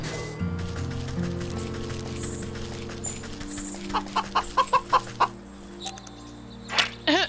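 Chickens cluck in the video game Wytchwood, a series of short, sharp clucks in quick succession over a steady musical backdrop, fairly close and clear, ending with a couple of louder squawks.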